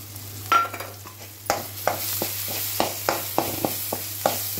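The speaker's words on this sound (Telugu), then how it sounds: "బాగా ఫ్రై చేసుకోవాలి" Green pea paste frying in a pan with a steady sizzle, broken by a series of sharp spatula scrapes and taps at a fairly regular pace, close by with no one talking.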